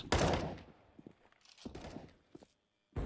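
Gunfire in Counter-Strike: Global Offensive: a loud opening burst, then scattered quieter shots and footstep-like clicks, another sharp report at the end, with no voices.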